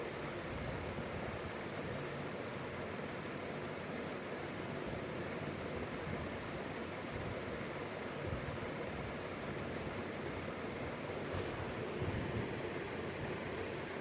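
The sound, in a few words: water from a hose washing the floor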